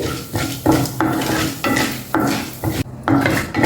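Chana dal, urad dal, mustard seeds and cumin seeds fry in a little oil over low heat. A spatula scrapes and stirs them around the pan in repeated strokes, close up, with no talking.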